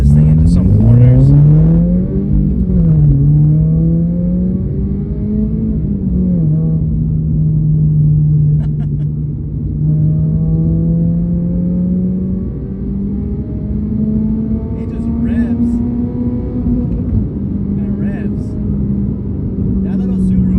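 Toyota GR86 engine pulling hard through corners, a loud steady drone that rises and falls in pitch with revs over about twenty seconds, heard from inside the car with tire and road rumble underneath.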